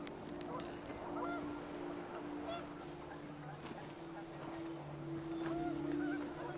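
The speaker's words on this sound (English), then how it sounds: "panicked geese appeared and quickly went" Geese honking in panic in the video game What Remains of Edith Finch, scattered honks over a continuous wind and water wash, with a soft voice in places.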